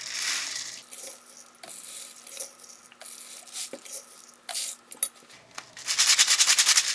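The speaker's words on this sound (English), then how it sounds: "you can use a funnel to put the rice in or just spoon it directly into the bottle" Dry rice spooned into a plastic bottle for homemade maracas, heard as soft scattered pattering and tapping of grains landing in small bursts, ending in a denser rattling pour, close and quiet with no voices.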